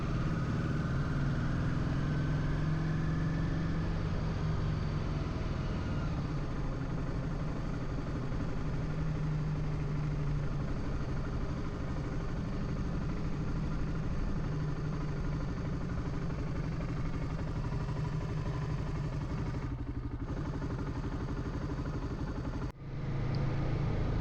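A motorcycle fitted with an Öhlins rear shock runs steadily along a section 5 stretch of the Trans-Euro Trail, its engine droning evenly for the whole ride, with wind rush and a brief dip near the end.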